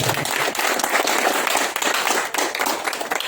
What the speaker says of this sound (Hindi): जोरदार तालियां आप लोग बजाएं